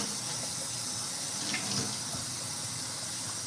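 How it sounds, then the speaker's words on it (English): Water runs steadily from a tap while hands are washed, a constant close hiss and splash with a slight shift in the middle as the flow is disturbed, and no talking. "Now I gotta wash my hands"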